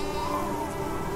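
Sheep bleating in the video game Niffelheim, a steady, dense animal cry held for just over a second at moderate level, with no talk over it.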